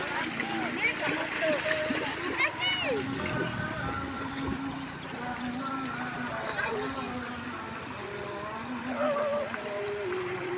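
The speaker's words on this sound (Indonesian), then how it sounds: "Padahal lumayan deras loh airnya" Strong river-like flow of water across a beach at Selong Belanak, a loud steady rush with children shouting, squealing and splashing close by, and people talking over it.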